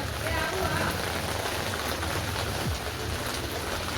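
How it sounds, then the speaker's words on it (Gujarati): Loud, constant rain drums on a surface nearby, a thick uninterrupted wash of noise with a low rumble underneath. "હા વરસાદ આવ્યો"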